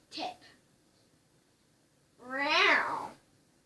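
A cat gives a short, faint mew near the start, then a long, loud, rising and falling meow closes the sequence; no talking is heard.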